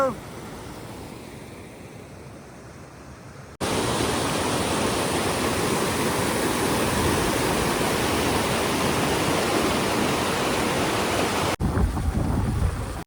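Loud, steady rush of water flowing under a bridge on the road from Shillong to Cherrapunji, Meghalaya, a broad continuous roar with a quieter, softer passage before it.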